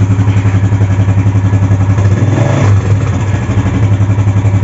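A Yamaha Jupiter Z1 motorcycle engine idles steadily and close by, with a dense, even mechanical drone and a slight rev swell partway through, no talking.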